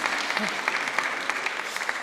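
Steady, dense applause from an assembly after an oath of office, many hands clapping at once throughout, fairly close and even in loudness.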